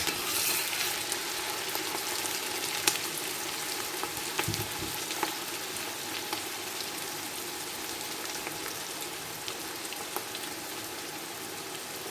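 Ingredients for a spinach sauce sauté in a pan, making a soft, continuous sizzle at low volume for the whole stretch with no voices.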